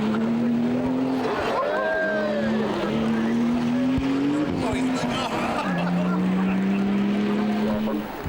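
Race cars in the Targa NZ tarmac rally, including a BMW 325i, power through a corner one after another, engines droning and shifting pitch over steady loud engine noise, with a narrator talking over it.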